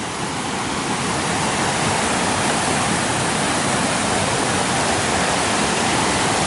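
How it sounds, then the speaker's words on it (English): A small waterfall on a backpacking trail pours in a steady, loud, broadband rush that fills the whole stretch with unbroken falling-water noise and no voices. "There's a nice little waterfall over here."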